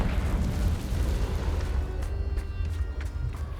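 A blasting spell explodes in the video game Hogwarts Legacy, a deep rumbling boom that rolls on with crackling debris for a few seconds, moderately loud with no speech.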